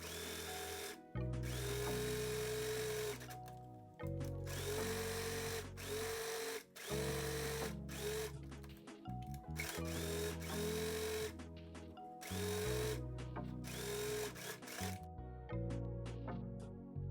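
A sewing machine stitches a French seam on a fabric pouch bag. The motor hums steadily in several long runs with short pauses between them, then ends in a few brief clicks and stops.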